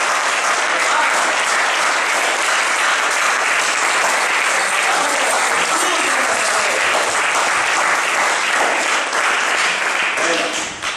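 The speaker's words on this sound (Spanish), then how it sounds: "Un aplauso al Señor." A church congregation applauds during an Easter service, sustained loud, dense clapping filling the room for several seconds with cheering voices mixed in, fading slightly at the very end.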